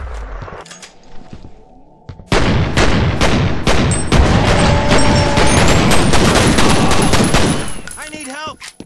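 Sustained automatic gunfire and explosions from the F.E.A.R. Resurrection video game, a quiet lead-in giving way to loud, continuous overlapping bursts and booms that run for several seconds before tapering off.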